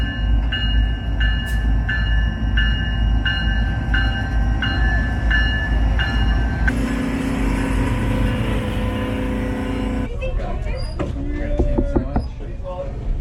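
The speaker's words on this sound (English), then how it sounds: "Getting ready to load up on the train." A tour train bound for Spencer Glacier in Alaska, heard up close as it idles and loads, with steady rumbling engine noise, a repeating chime-like tone in the first half and later clanking and squealing as the cars shift.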